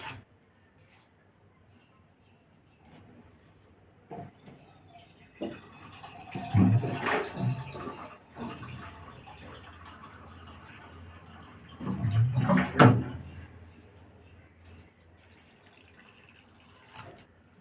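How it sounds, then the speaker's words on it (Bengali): Water poured over flattened rice (chira) in a bowl to soak it, two separate splashing pours rising over a quiet kitchen background with small knocks between them. "এবার আমি চিড়েটাকে জল দিয়ে ভিজিয়ে রাখছি।"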